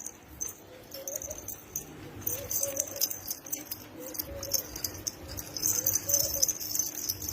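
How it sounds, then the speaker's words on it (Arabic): Domestic pigeons on a rooftop coo softly in short, low, repeated phrases amid rustling, scratchy background noise and occasional higher chirps. "4 طيور حمام، فيهم 2 مقصوصات و2 مجنحات"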